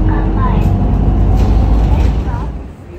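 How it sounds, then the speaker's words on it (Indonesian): A city bus in Tokyo rumbles steadily from the inside, a low engine drone with road noise throughout and indistinct voices murmuring over it, easing off slightly near the end. "Kita mau naik bis dulu karena daerahnya gak terlalu jauh dari sini"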